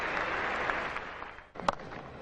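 A test match cricket crowd applauds an on drive, steady clapping from many hands in a large stadium, with a brief louder burst near the end.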